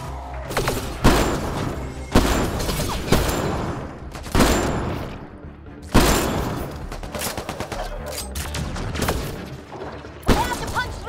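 Repeated heavy gunshots and bursts of fire in the sci-fi shooter Mass Effect: Andromeda, loud and close, with sharp cracks every second or two over a dense, continuous battle din.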